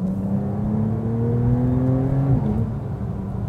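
A car drives past with a close, steady engine whir whose pitch climbs smoothly and then drops suddenly as the gear or speed changes; no voices are heard.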